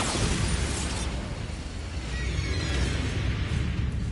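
A Bombarda spell explosion in Hogwarts Legacy: a loud, broad rumbling blast that stays dense and roaring for several seconds, heard alone.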